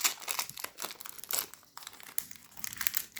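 A Pokémon booster pack's foil wrapper crinkles and tears open up close in a string of sharp, uneven rustling bursts, with no talking.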